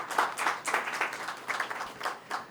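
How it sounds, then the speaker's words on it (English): Audience applause for a panel at the close of a clean mobility and energy-efficient appliances session, a moderate wash of many hands clapping with uneven surges, fairly distant and steady. "Can we have a big round of applause for everyone"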